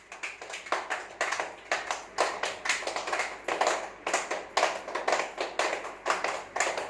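A group of elderly residents at an old age home clapping hands together during morning yoga and prayer, a steady run of soft repeated claps in short bursts, moderately near.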